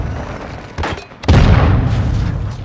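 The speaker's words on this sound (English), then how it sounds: "Throwing flash grenade!" A flash grenade goes off in Call of Duty: Modern Warfare 2, a short thud followed by a loud booming blast with a ringing, noisy tail, heard close with no talking.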